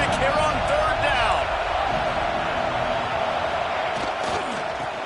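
A stadium crowd roars at Auburn on third down in a college football video game, a loud, continuous wash of noise under a commentator's voice.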